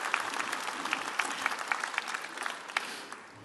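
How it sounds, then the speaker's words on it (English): Audience applause for volunteers at the opening ceremony of the Darwin Aboriginal Art Fair, a steady patter of many hands clapping across the whole stretch and fading slightly at the end. "Give them a round of applause because they're really deadly too."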